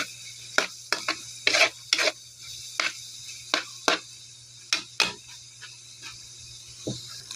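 Pork offal frying in a pan for dinuguan, spitting and crackling as it cooks: a string of sharp, close pops and short sizzling bursts at irregular intervals over a low steady hum.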